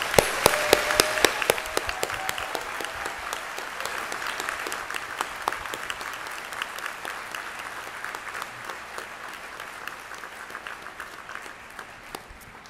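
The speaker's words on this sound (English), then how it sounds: "let's put our hands together in a big applause, big round of applause to those who have supported you" Big round of applause from a graduation audience at a university spring convocation, a dense crowd of clapping hands with sharp individual claps standing out, strong at first and tapering gradually as it goes on.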